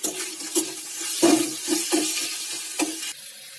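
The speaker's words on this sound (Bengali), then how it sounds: "দিয়ে মশলাটাকে ভালো করে কষিয়ে নেব।" Spice mix with onion, capsicum, grated mango, ginger and garlic sautéed in a pan, with steady sizzling and several distinct scraping stirs of a spatula at irregular intervals, close and moderately loud, with no speech.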